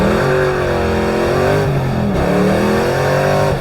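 A high-horsepower car engine revs loudly and steadily close by, its pitch rising and wavering as the wheels spin without traction.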